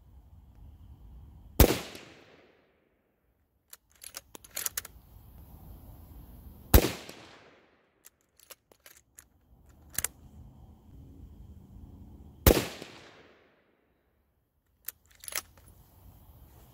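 Three loud, sharp rifle shots during a precision group test at a range, evenly spaced several seconds apart, each cracking close and echoing briefly, with quieter handling clicks between them.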